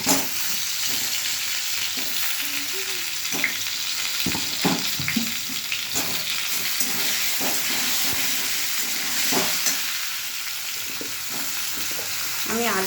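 Taro and potato pieces fry together in hot oil in a pan, a constant loud sizzle and hiss with occasional scraping and stirring clatter throughout.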